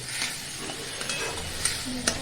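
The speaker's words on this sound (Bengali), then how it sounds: "এরপর একে একে যেগুলো রাখা ছিল যেমন বাটা পেঁয়াজ কুচো পেঁয়াজ এইগুলো সব কড়াইতে দিয়ে একসঙ্গে নেড়ে নেওয়া হচ্ছে" Ground and chopped onions stirred together in a wok (kadai), with a soft continuous sizzle under repeated scraping stir strokes and a couple of sharper utensil knocks near the end.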